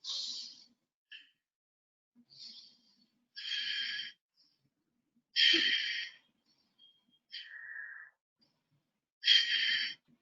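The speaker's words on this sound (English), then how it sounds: "So I hope you are able to hear my breathing. The breathing has to be really strong." Strong, deep breaths during a breathing exercise: forceful, airy inhales and exhales, close and clear, spaced a second or two apart against near silence.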